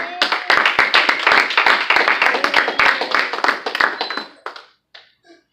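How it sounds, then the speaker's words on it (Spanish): A church congregation claps together as an offering of applause, a dense, loud run of rhythmic hand claps that tapers off into a few scattered final claps. "Denle una ofrenda de palmas al Rey en esto"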